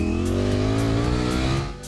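A Ducati Streetfighter V4 S with its V4 engine runs steadily at close range, a loud, continuous harmonic drone that eases off slightly in the final moment.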